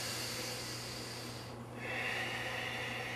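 A person draws in a slow, deep breath through the nose, a soft close airy hiss that swells and fades, heard alone with no talk.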